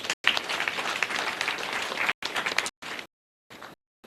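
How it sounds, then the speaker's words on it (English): Graduation ceremony audience applauding the chief guest, a dense burst of clapping that breaks off, then returns in a few shorter patches that fade. "Can we clap for him?"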